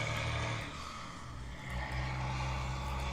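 Loud trucks passing outside produce a continuous low engine rumble with a slight dip and rise in loudness, distant and steady, with no one speaking.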